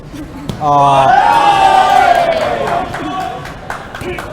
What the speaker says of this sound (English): cheers as Poken Siga lands a left hook